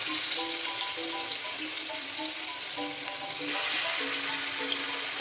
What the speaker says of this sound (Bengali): আমি এবারে চিকেনগুলোকে এর মধ্যে ফ্রাই করে নেবো।